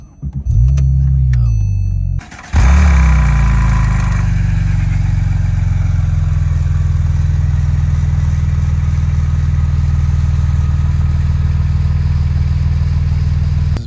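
An 800HP Porsche 911 Turbo cranks after a few light clicks and jangles, catching with a loud burst before settling into a deep, steady idle rumble that continues up close.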